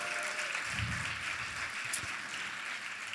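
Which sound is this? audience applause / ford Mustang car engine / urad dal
audience applause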